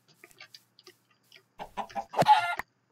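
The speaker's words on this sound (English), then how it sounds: "Let's just get this chicken." Chicken in Minecraft giving a few sparse, soft clucks, then a louder burst of clucking near the end, heard alone with no talk.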